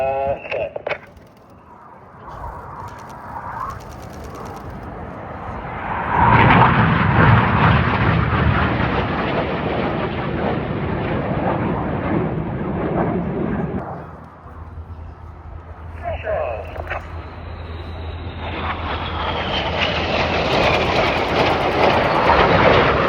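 Red Arrows jets roar loudly overhead at the RAF Cosford air show while setting up a formation break, the engine noise swelling, fading briefly and then building again.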